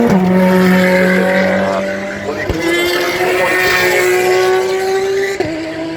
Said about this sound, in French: Ça rentre dans son stand la Porsche numéro 5 et la Porsche numéro 6